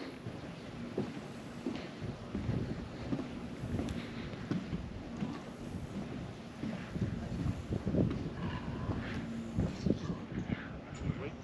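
Gusty wind buffeting a microphone on a wetland walking trail, a continuous low rumble with irregular louder gusts throughout, fairly faint overall, with no clear talking.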